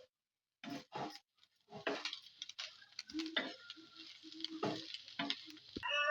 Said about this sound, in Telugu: కొత్తిమీర వేసుకున్న తర్వాత 1 నిమిషం పాటు హై సిమ్లో వేయించుకుందాం దీన్ని బాగా